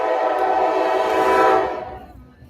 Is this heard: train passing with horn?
yes